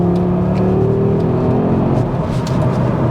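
Audi RS3 with a 2.5-litre five-cylinder engine revving hard as it accelerates in second gear, a loud, close, rising howl with climbing tones and no voices over it.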